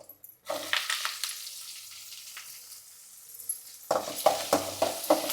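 Small onions and curry leaves frying for Coimbatore mutton curry: steady sizzle with bursts of crackling and stirring as ingredients hit hot oil, louder at the start and end, no voices.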